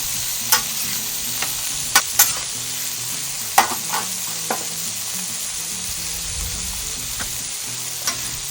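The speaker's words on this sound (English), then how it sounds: "Chopped brisket, here we come." Chopped brisket sizzles on a hot griddle with a steady, soft frying hiss, broken by scattered scraping clicks of a spatula stirring the meat.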